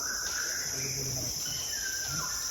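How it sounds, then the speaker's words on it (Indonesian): A white-rumped shama sings varied whistled phrases at middle distance in a forest over a constant high insect drone. "Burung murai."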